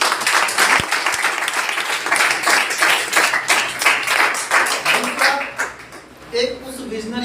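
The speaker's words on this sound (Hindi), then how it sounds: "तो उसके लिए जोरदार तालियां होनी चाहिए।" Audience clapping fills a hall with dense, sustained applause for several seconds before fading, and a voice speaks as it dies down.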